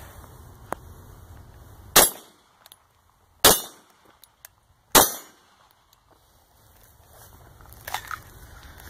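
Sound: FNX 45 pistol shots

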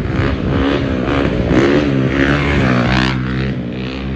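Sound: dirt bike engine revving

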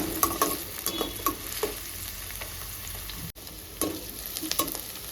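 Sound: frying mutton liver until golden

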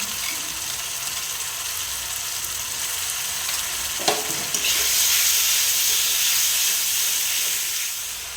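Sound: onion frying with ginger, cumin, chili and garlic

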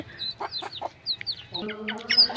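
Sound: chicken clucking

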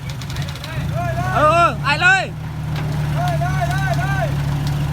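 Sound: farm tractor engine pulling a stuck car

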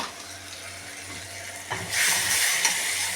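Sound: spice paste sizzling in hot oil

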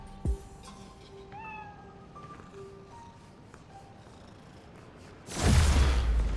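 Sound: cat meowing in Marvel's Spider-Man: Miles Morales video game

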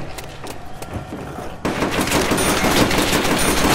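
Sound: trench gun firing in video game Call of Duty World at War

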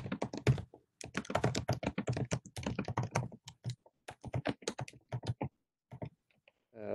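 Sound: typing on a computer keyboard

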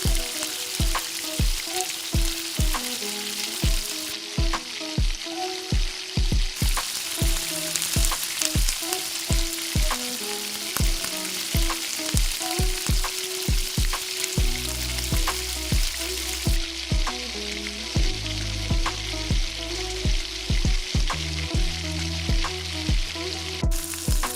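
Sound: potato vadas deep-frying in oil

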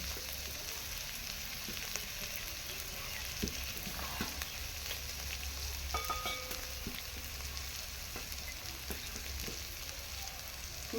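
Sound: spice paste frying in a pan for chicken kofta curry

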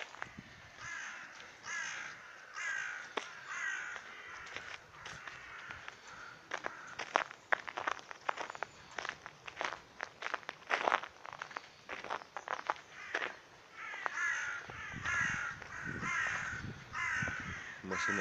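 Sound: crows cawing on a sunny frosty Moscow morning

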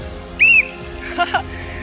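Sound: whistle being blown

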